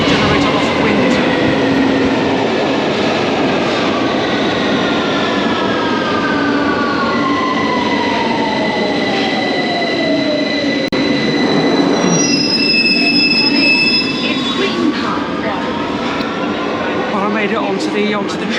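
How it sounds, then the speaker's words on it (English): A London Underground train pulls into the platform with a loud, steady rumble and long, high metallic wheel squeals sliding in pitch as it brakes. "As I walk onto the platform, the train is arriving."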